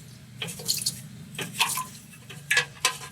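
Automatic transmission fluid from a 4L60E sloshes and splashes out of a pan during a filter and fluid service, with several wet splashes and drips over a low steady hum and no talk.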